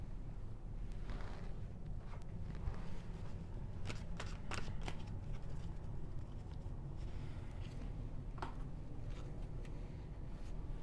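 Tarot cards shuffled by hand, close and soft, with a continuous riffling rustle and a few sharper flicks and snaps scattered across it, over a low background rumble.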